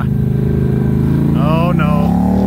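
A motorcycle with a stock exhaust rides by on an off-road trail ride, its engine tone loud and close and climbing in pitch, while people talk over it.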